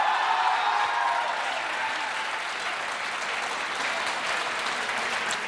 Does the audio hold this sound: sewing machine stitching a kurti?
no